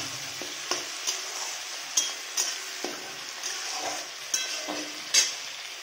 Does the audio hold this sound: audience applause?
no